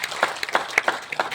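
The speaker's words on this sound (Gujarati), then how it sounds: "એકવાર જોરદાર તાળી આરસીએમ પરિવાર વાળી" An audience bursts into brief applause for the RCM family at a Gujarati gathering, a short burst of scattered claps lasting just over a second.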